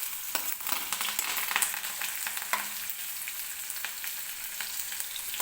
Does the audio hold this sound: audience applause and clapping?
no